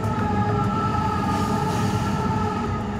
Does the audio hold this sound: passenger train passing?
yes